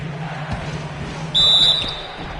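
A referee's whistle shrills in one sharp, piercing blast during a Knicks–Mavericks basketball game, over faint arena murmur and a few thuds of a bouncing ball.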